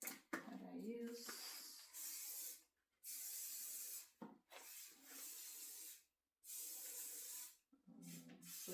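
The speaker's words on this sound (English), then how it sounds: "I'll just come in with shine spray." Repeated hissing bursts of an aerosol hair shine spray, several long sprays separated by short pauses, fairly close, with occasional soft speech between them.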